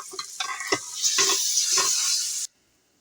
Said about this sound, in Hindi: प्याज मेरे भी यहाँ पे भुन रहे हैं